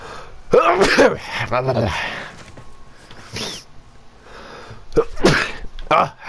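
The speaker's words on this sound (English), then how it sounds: "I'm going to sneeze." A sharp sneeze bursts out amid brief vocal sounds and breathy noises, with a couple more short exhalations afterward.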